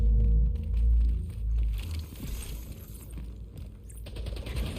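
Gunfire in the shooter game Splitgate during a team deathmatch, a rumbling mix of shots and low booms that rises and falls steadily under game noise, with no talk.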